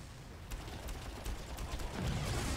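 Gunfire in the video game Far Cry crackles as a quick run of sharp, fairly faint shots over a rumbling, busy background.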